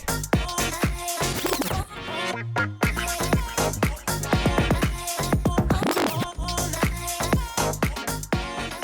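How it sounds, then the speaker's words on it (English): A dance track plays as an AlphaTheta DDJ-GRV6 DJ controller's Vinyl Break effect briefly slows the drums and drops them out, like a record winding down, then the beat kicks back in and continues. "Here's Vinyl Break."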